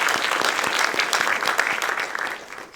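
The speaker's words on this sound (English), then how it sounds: "So please give them a round of applause for this." An audience applauds at a talk on caste and oppression, a dense burst of many hands clapping close and steady for a few seconds with no voices over it.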